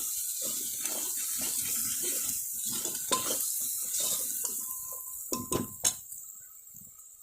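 Mutton curry masala with coriander powder is stirred in a pan, giving wet scraping and clinking spoon-on-metal sounds in irregular strokes, close and moderate in volume.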